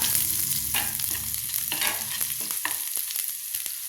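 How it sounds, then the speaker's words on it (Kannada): Onion fries in a pan while being stirred, for a green chilli chutney. A close, steady sizzle runs throughout, with sharp scraping clicks from the stirring toward the end and no talk. "ಹಾಗೆ ಒಂದು ಈರುಳ್ಳಿ ಹಾಕ್ತಾ ಇದ್ದೀನಿ ಈರುಳ್ಳಿನ ಹಾಕಿ ಚೆನ್ನಾಗಿ ಕೈ ಆಗ್ಬಿಡೋಣ"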